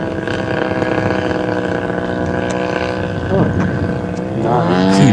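A Turner Special model airplane flies at reduced throttle after a stall, its small engine giving a steady buzzing drone that rises in pitch and loudness near the end, with faint talk underneath.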